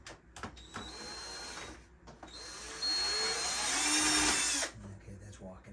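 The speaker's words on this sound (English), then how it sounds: "we got a lot of holes to drill. I'm hoping that I have enough bits." A power drill boring holes in an outdoor swing under restoration, its whine rising and holding steady through a long sustained run with shorter bursts before it, close by, with some background noise.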